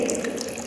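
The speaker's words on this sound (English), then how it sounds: "at the lowest hole the water is falling at the largest distance" Water streaming out of holes at different heights in a leaking container in a science demonstration, a steady close splashing and pouring rush with no talk.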